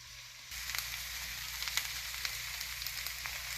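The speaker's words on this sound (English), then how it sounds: "now once you have the cabbage cooking in here for a while" Szechuan cabbage stir-frying in a pan, starting with a short quieter moment and then a soft, steady sizzle with faint pops and crackles, heard close and alone with no voices.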